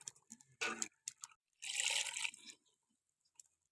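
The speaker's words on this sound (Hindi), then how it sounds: "1 गिलास के करीब पानी शामिल कर लेंगे।" Water splashes and pours in short bursts into a pot of mutton with spices, with a longer steady pour in the middle, then a few faint drips.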